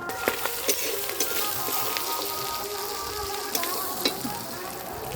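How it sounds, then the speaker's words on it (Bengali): Prawns fry in oil in a pan, giving a steady, moderately soft sizzle with scattered sharp pops and spits heard close up throughout. "চিংড়ি মাছগুলো ভাজা হয়ে গেছে, তুলে নেব"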